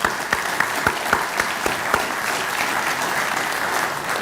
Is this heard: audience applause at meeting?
yes